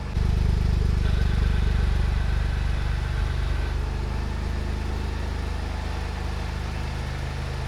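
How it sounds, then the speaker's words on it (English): A Toyota GR Yaris engine with a catless downpipe, warming up, idles steadily with a low, deep rumble and a faint rasp, running alone at a constant, moderately loud level. "When it starts to warm up, like right now, it's idling, it's actually pretty quiet."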